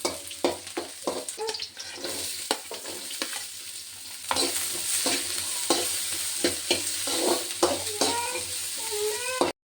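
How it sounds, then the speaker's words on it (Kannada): Ginger, garlic and green chilli fry in oil in a kadai, a continuous sizzle broken by repeated scraping and stirring strokes of a spatula against the pan, close and moderately loud. "ಒಂದು ಬಾಣಲಿಗೆ ಎಣ್ಣೆ ಹಾಕಿಬಿಟ್ಟು ಅದಕ್ಕೆ ಫಸ್ಟು ಶುಂಠಿ, ಬೆಳ್ಳುಳ್ಳಿ, ಸ್ವಲ್ಪ ಹಸಿಮೆಣಸನ್ನ ಹಾಕ್ಕೊಂಡು ನೀಟಾಗಿ ಫ್ರೈ ಮಾಡ್ಕೊತಾ ಇರ್ತೀನಿ"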